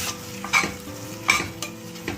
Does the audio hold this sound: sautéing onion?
yes